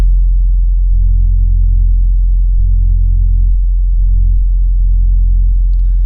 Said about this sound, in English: So let's low pass this so we can hear what we're doing.